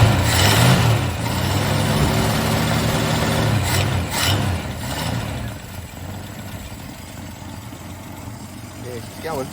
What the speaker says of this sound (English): Running a bit average, but she's running. Massive exhaust leak there somewhere